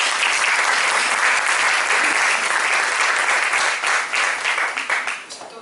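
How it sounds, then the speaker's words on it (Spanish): Loud, dense audience applause at a talk fills the room steadily, then thins into scattered claps as it fades out near the end. "Fuerte aplauso."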